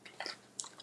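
Crunching bites of crusty baked cheese on Philly cheesesteak stuffed peppers, several quiet, close, crisp chewing crackles spread over under a second, with no talk.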